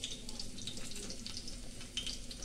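Food dropped into hot oil fries with a steady close crackling sizzle, scattered pops and spits rising over a soft continuous hiss, with no talking.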